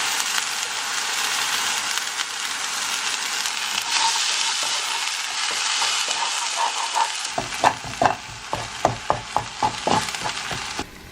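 A spatula scrapes and stirs vegan egg with paprika in a sizzling frying pan, a continuous close hiss giving way to a run of sharp, rhythmic taps and scrapes toward the end, with no voices.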